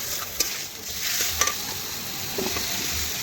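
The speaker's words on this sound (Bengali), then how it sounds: "এখন নাড়াচাড়া করে ভালোভাবে একটু ভেজে নিচ্ছি চিকেনটা" Chicken pieces coated in spices stirred and fried in a pan, giving a steady close sizzle with a few sharp scrapes of the spoon, no voices.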